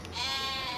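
A single sheep bleats in Farming Simulator 25, a short, wavering, nasal cry heard fairly clearly on its own.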